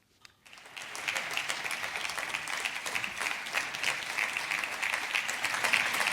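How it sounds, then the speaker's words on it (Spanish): PP and Ciudadanos members of the Castilla y León parliament applaud the economy and finance minister, a dense, sustained round of clapping that swells in from near silence and holds steady, filling the chamber at moderate distance. "Son los aplausos de la bancada del PP y Ciudadanos al consejero de Economía y Hacienda"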